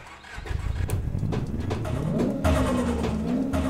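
A Toyota Trueno AE86 starts up in a racing video game, a rising engine note that settles into a steady idle hum, loud and close with no talk over it.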